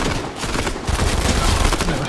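Dense, continuous gunfire from a Fortnite battle, steady bursts running throughout at close range with a faint voice underneath.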